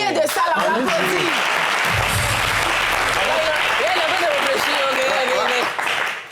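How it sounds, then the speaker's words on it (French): Audience applause at an Ivorian entertainment talk show, steady broadband clapping filling the whole stretch, with a voice speaking over it early on. "le pionnier de ça, là, on l'applaudit"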